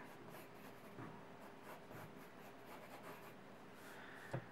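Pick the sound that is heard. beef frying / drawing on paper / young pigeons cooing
drawing on paper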